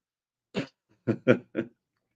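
Four short, sharp coughs, one alone and then three in quick succession, close and clear against silence.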